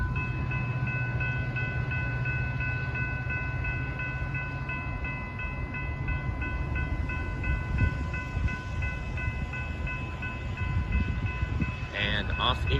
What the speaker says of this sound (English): That I believe was this line's holiday train.